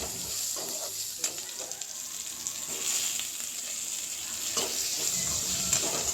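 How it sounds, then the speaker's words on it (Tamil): Onions and curry leaves sautéing in hot oil for sambar, a constant bright sizzle with occasional soft scrapes from stirring, close and fairly loud, no voices. "வெங்காயம், கருவேப்பிலை போட்டு நல்லா வதக்கிக்கலாம்"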